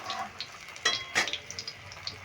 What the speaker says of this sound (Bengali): এবার ফোড়নটা একটু নেড়ে ফেলে নেব একটু নেড়ে ভেজে নিলাম